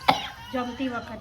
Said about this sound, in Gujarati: મને બહુ ખાંસી થઈ ગઈ છે